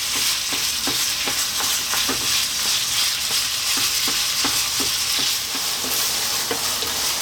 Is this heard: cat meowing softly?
no